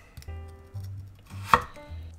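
A knife chops raw potatoes on a cutting board for a creamy salmon soup, giving a few sharp, close chops with short pauses between them.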